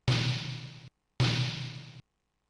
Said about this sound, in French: C'est un son de percussion.